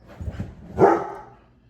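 A dog gives a couple of small grumbling yips and then one loud, close bark that fades out.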